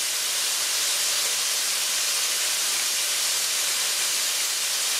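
Liquid draining out of an opened can of peas in a home kitchen, a steady, even hissing rush that runs unbroken from start to finish with no talk.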